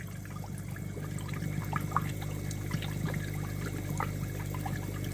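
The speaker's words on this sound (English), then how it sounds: "So that is moving quite a lot of water out of the uplift tube" Air-pump-driven aquarium sponge filter pushing water out of its uplift tube, a steady close trickling and splashing stream with scattered bubbly drips over a low constant pump hum.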